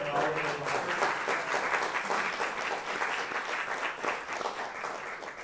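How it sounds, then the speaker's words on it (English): Sustained applause for panelists from a conference audience fills the room, steady and dense throughout, with some voices mixed in beneath the clapping. "Can I get a round of applause for our panelists here?"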